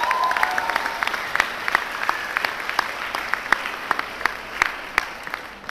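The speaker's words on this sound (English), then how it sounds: "let's start with a round of applause for that" An audience at a retreat event claps in a sustained round of applause, dense overlapping hand claps with sharp individual slaps standing out, steady and fairly loud throughout.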